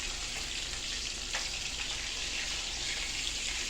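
Small perch fish sizzle steadily in a pan of hot oil, a dense, even crackling hiss that runs unbroken and moderately close.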